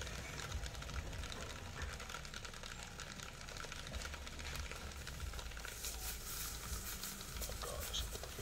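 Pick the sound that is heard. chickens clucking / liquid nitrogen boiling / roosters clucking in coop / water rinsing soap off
liquid nitrogen boiling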